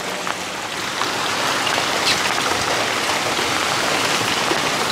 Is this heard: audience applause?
no